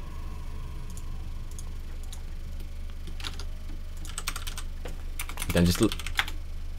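Computer keyboard typing during an online real-time strategy match, with scattered key clicks that grow into a quicker, louder burst near the end, beneath a steady background hum and a brief spoken word.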